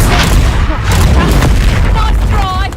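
A Confringo explosive spell blast in the Hogwarts Legacy video game booms loud and continuous, a thick rumbling burst with crackling debris and magical shimmer over the nearly three seconds, mixed with voices.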